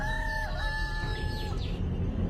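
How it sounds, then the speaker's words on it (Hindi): A village rooster crows in one long drawn-out call with a clear rising and falling pitch, heard from a moderate distance over steady low background rumble. "ये किसी गांव के मुर्गे की बांग थी।"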